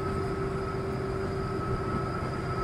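Kalka-Shimla toy train running on the narrow-gauge mountain line from Kalka, a steady continuous rumble with sustained tonal hums, close and unbroken throughout.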